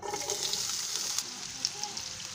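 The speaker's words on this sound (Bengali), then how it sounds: "এবার এই তেলে দিয়ে দিচ্ছি আমি এখানে দুটো মিডিয়াম সাইজের পেঁয়াজ কুচি নিয়েছি" Chopped onions land in hot oil in a frying pan and sizzle steadily, a bright hiss with small crackles and a few stirring sounds, fairly close and with no voice over it.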